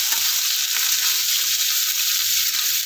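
Chopped onions fry steadily in a pan, a dense continuous sizzle with faint occasional stirring scrapes underneath, close and even throughout with no talking.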